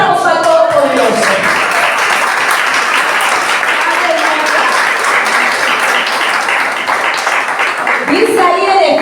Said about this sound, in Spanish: Denle un aplauso al Todopoderoso.